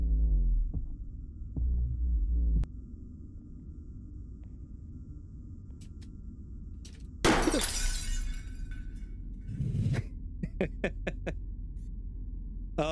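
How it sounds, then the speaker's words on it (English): Flashlight bursting in a horror video game: a sudden loud shattering crash midway, followed by crackling fragments and sharp clicks over a low droning hum, with quieter tones beforehand. "Oh no, my flashlight just fucking exploded."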